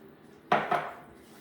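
A few close clinks of a utensil against a bowl while mixing a dough of flour, yeast, butter and egg yolk for Berliner doughnuts, two sharp knocks in quick succession, then quiet.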